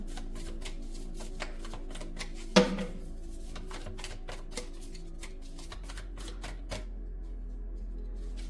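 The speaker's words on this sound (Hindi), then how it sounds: "अभी और शफल करूंगी।" Tarot cards being shuffled by hand, a rapid run of soft riffling flicks and slaps with one sharper knock partway through, close and fairly quiet, no talking.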